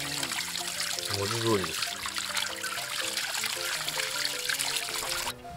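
Water trickles and splashes continuously while maple bonsai roots are washed and brushed during repotting, with a person speaking over it.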